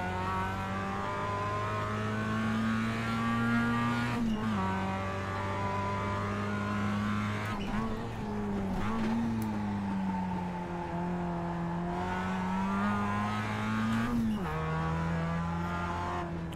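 Global Mazda race cars battling in the iRacing simulator, engines droning and revving close by through gear changes, with periodic lifts and rises in pitch over the whole stretch and no voices.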